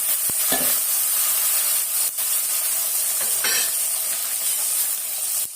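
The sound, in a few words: chopped onions frying in garlic curry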